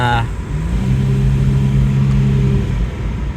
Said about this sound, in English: I am going to put it into sport mode next time, and just so you can hear the exhaust.